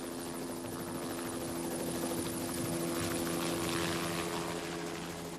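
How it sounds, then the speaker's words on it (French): A large helicopter flies low overhead with a loud steady rotor drone and engine whine, swelling slightly as it passes, and no voices. "cet énorme hélicoptère est sorti par là, il a fait tout un tour, et il y avait un bruit assez énorme"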